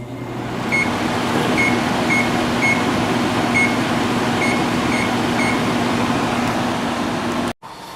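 A Carrier 6200 BTU window air conditioner runs on medium fan, giving a loud, steady hum and airflow with a constant low tone and faint periodic beeps, then a brief dropout near the end.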